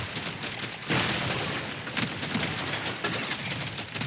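Explosions and rapid fire in the sci-fi mining game Deep Rock Galactic: Survivor, a dense, continuous barrage of bursts and crackling blasts, loud and close, with stronger booms near the start and middle.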